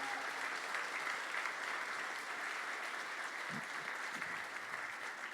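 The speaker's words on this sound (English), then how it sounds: "Give yourself a round of applause for joining us this morning" An audience at a morning cycling club gala applauds steadily, a dense continuous wash of clapping throughout that fades slightly toward the end.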